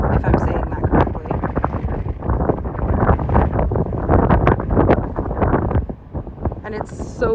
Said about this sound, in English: it's so windy that like the wind is blowing the phone in my hand